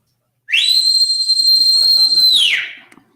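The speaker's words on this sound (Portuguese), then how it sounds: "Dê um assobio." A single loud, sustained whistle rings out at a church service, rising sharply, holding a steady high pitch for about two seconds, then sliding down and fading, with no speech over it.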